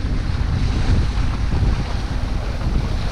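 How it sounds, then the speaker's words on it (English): Wind blowing steadily over open water near Homer, Alaska, a loud continuous rushing roar with low buffeting gusts and waves washing underneath, with no voices. "Only this wind had been blowing all day would have been great."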